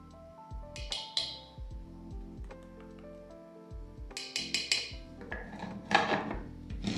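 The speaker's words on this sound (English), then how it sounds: "Give that a proper mix to combine everything evenly." Dry ingredients for eggless Jamaican toto are mixed in a bowl, giving close clinks and scrapes of a utensil against the dish in irregular bursts, with quieter stretches between.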